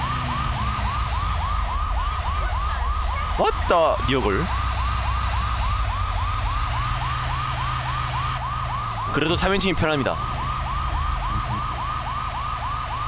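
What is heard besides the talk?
fire truck siren in the video game GTA V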